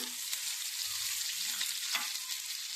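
Cumin, dried red chillies and curry leaves sizzle in hot oil as a tempering for a raw ridge gourd chutney, producing a bright, steady crackling hiss that fills the whole stretch with no voices.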